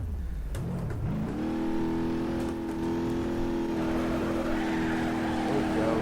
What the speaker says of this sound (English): it'll do a donut with the Cummins turbo diesel